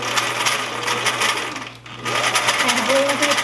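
A home sewing machine runs steadily, stitching a dart in a sloper garment, with a brief pause in the motor before stitching resumes, close and loud.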